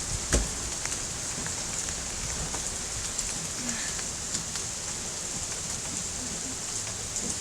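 Steady rain falling outdoors during a thunderstorm in Canada, an even hiss of drops on surfaces with a few closer patters and knocks, no voices.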